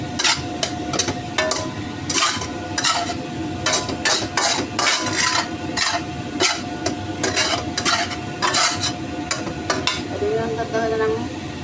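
Minced meat and cauliflower frying in a pan, a steady sizzle broken by frequent sharp clanks of a spatula stirring and scraping, close and fairly loud.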